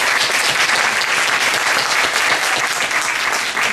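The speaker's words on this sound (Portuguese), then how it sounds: "Quero pedir uma salva de palmas para a professora." Warm, sustained applause from an audience for a professor after a lecture, dense clapping filling the room at full volume, steady with no talk over it.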